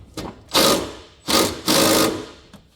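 A small impact wrench hammers on a 15 mm bolt on the front strut of a Jaguar F-Type R, firing in three short, close bursts separated by brief pauses.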